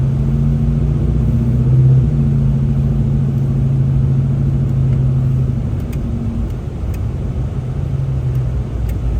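An SN95 Ford Mustang drives slowly on an untreated snowy road, its engine humming low and steady up close, then easing off after about six seconds.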